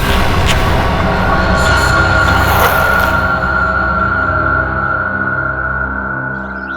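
A train rolls steadily along the rails at a station platform, a loud continuous rumble with a sustained high wheel tone and faint squeal, fading slightly toward the end with no talk.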